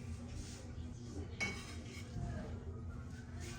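Chopped onions tumble into a cooking pot with faint clinks and clatter of metal and utensils, one sharper knock standing out, all quiet and close with no one talking.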